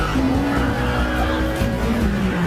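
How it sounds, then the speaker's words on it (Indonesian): A car speeds off at full throttle during a chase, its engine roaring loud and close while the tires squeal with rising and falling tones. "Bond langsung menancap gas kendaraannya"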